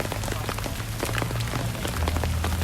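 Heavy rain pours steadily onto a surface during an outdoor takraw match, a dense, continuous patter with scattered sharper drops, loud and close throughout.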